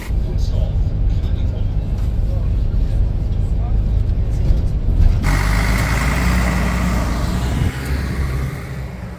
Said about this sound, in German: Unser Bus kommt an. Wir werden hier jetzt einsteigen